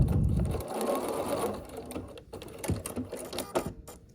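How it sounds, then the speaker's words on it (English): A sewing machine stitches a foundation paper pieced block for a scrappy sampler quilt, running steadily and close by; the motor is loudest at the start, then settles into an even, busy stitching hum with slight shifts in speed. "we'll sew along this line between A1, 2, 3 and A4"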